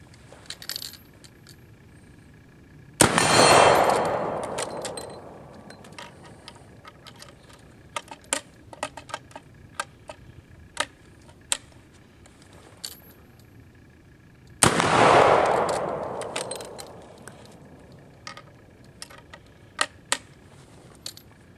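An 1873 Trapdoor Springfield rifle, a Pedersoli-made replica, fires two loud, sharp shots about twelve seconds apart, each with a long booming decay, and scattered metallic clicks and handling noises fill the gaps.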